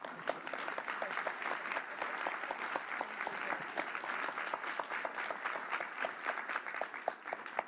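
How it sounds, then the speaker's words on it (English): Forum participants seated around a table applaud to approve a clean-cities declaration, a sustained, even patter of many hands clapping at moderate distance with no voices. "express your intention to approve the declaration by applause"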